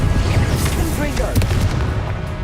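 Confringo blasting spell explosions in the wizarding game Hogwarts Legacy: a few booming bursts under a steady rumble of combat, with a voice talking throughout.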